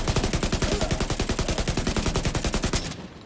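Sustained automatic fire from a weapon in The Division 2, a fast steady rhythm of loud close shots running about three seconds before cutting off.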